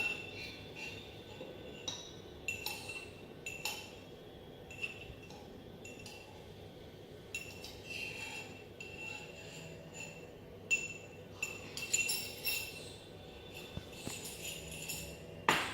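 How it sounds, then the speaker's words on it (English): Ingredients for a mint mojito go into a glass mason jar with faint clinks and taps of glass, scattered and quiet, no voices. "So now I'll put it in the mason jar."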